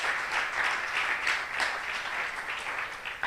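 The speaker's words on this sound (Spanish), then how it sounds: "¿Y cuántos aplauden a Dios por eso?" A church congregation applauds steadily during a sermon, a dense continuous wash of many hands clapping at even volume throughout.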